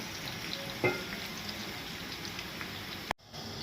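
Onions and green chillies fry in oil for pulao, a steady soft sizzle with a few stirring clicks and a brief knock near the end.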